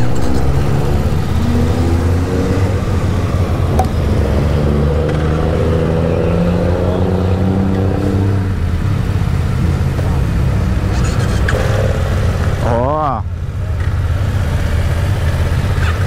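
A 2020 BMW F900R Sport Style roadster's parallel-twin engine with a 270-degree firing order revs up and settles in a steady, loud rumble, rising and falling in pitch, with a brief sharper rev near the end.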